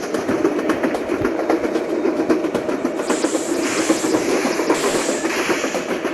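A train engine in Train Simulator Bangladesh rumbles steadily with rhythmic clickety-clack of wagons and a hiss, loud and continuous, with no talking.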